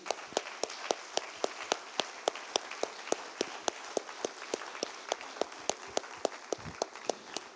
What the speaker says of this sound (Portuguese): Dá uma salva de palmas para essas crianças aí.